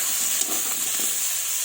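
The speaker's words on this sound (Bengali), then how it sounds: "মাছ ভাজা তেলের মধ্যেই আমি আলু ফুলকপিগুলো ছেড়ে দিলাম।" Potatoes and cauliflower sizzle in oil left over from frying fish, a steady close hiss of frying with faint stirring underneath and no speech.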